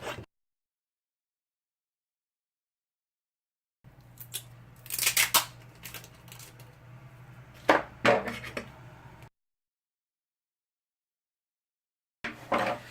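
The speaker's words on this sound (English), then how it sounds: "cut a really long strip of this size" Scissors slicing a long strip of paper for large paper-flower wall decorations, heard as a few close, crisp bursts of cutting separated by silence, with no talking.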